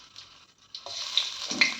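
Ginger garlic paste hits hot coconut oil in a pan and frying sizzle breaks out, quiet at first and then rising into a close, bright crackle with some stirring, no voices.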